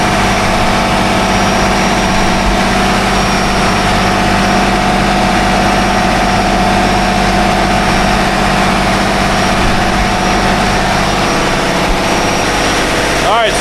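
A supercharged boat motor runs steadily and loudly at close range with a constant droning hum and vibration and no pauses. The boat is out in the Gulf.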